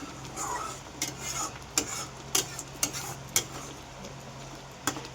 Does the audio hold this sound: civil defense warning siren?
no